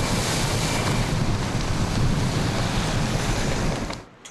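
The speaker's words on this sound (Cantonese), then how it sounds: "岸邊亦都開始大浪" Big waves crash at the Hong Kong shore as Typhoon Vicente approaches, with heavy surf and strong wind buffeting the microphone in a loud, continuous roar that drops away near the end.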